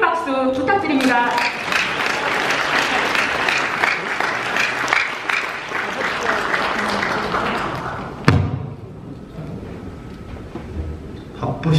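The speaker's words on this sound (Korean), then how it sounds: "큰 박수 부탁드립니다." Wedding guests at a Korean ceremony hall applaud as the groom's father comes up to the stage, a thick burst of clapping lasting about eight seconds, then a single thump and quieter room tone.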